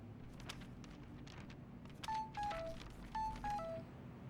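A phone gives two short three-note electronic tone sequences over steady low room hum, with faint clicks and rustling around them.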